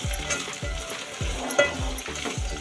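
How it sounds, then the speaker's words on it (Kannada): Carrots and beans are stirred into a hot frying pan, with a loud, close sizzle broken by regular scraping stirs about every half second and faint metallic clinks, with no voices. "ಕ್ಯಾರೆಟ್ ಹಾಕ್ತಾಯಿದ್ದೀನಿ, ಬೀನ್ಸ್ ಹಾಕ್ತಾಯಿದ್ದೀನಿ. ಇಷ್ಟನ್ನು ಹಾಕಿ ಚೆನ್ನಾಗಿ ತಿರ್ಸೋಣ."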